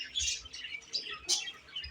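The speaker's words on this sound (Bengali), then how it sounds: "আমার পাখির সেটআপে নতুন কিছু পাখি অ্যাড হয়েছে। আমার এখানে রয়েছে একজোড়া লাভবার্ড" A pair of lovebirds and other birds in an indoor home aviary give faint, scattered chirps and sharp squawks in short irregular bursts.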